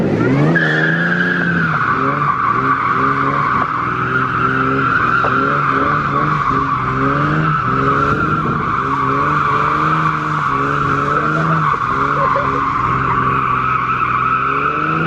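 A Mustang Foxbody drift car skids with loud, sustained tire squeal that rises and wavers in pitch over an engine note. It stays close and continuous throughout with no talk.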